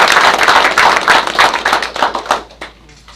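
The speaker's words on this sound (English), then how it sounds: "So give her a round of applause if you would." A round of applause at a Gatesville ISD school board meeting: close, loud hand clapping in uneven bursts from a small group, fading out near the end.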